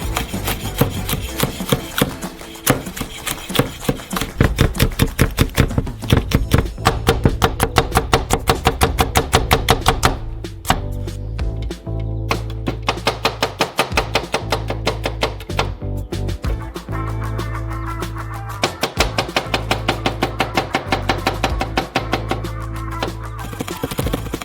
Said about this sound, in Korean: 원형으로 썰어주세요.